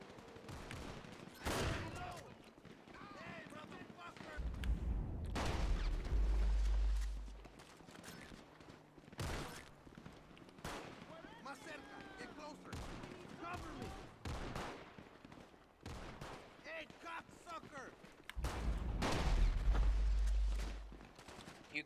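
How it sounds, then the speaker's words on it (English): Vintage pistol and shotgun gunfire in GTA V during a gang turf fight, repeated sharp loud shots in bursts spread across the stretch, with game voices talking between them. "I hate the vintage pistol sounding on this."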